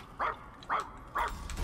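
A robot dog in the video game Puppeteer barks three times in an even rhythm, each bark short, mid-loud and close, with gaps between them.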